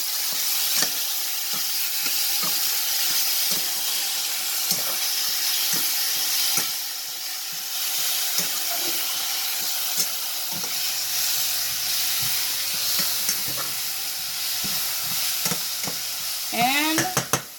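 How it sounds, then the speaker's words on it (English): Butter, garlic and seasoning sizzle steadily in a pan on a stove while a utensil stirs them, a loud continuous frying hiss with scraping strokes and a few clinks near the end. "I'm going to mix this all together with the butter, the garlic, the seasoning."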